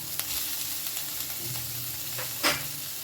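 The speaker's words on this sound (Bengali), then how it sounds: "প্রায় মিনিট খানিক ধরে এটাকে আমি ভেজে নিয়েছি এবার এর মধ্যে আমি দিয়ে দেব টমেটো" Vegetables for a children's school tiffin sizzle and fry steadily in a pan as tomato is tipped in, with a brief louder hiss and stirring scrapes over the constant close crackle.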